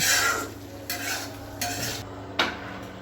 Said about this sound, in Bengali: একটু নাড়াচাড়া দিয়ে ঢ্যাঁড়সটা নামিয়ে নিব